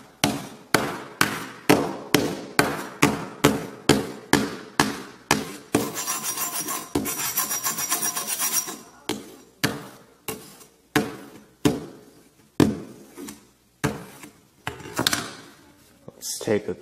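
A hammer strikes the textured back of a Samsung Galaxy Note 3 in a sharp, close series of regular knocks, pausing for a few seconds of scraping and rubbing before the blows resume more sparsely.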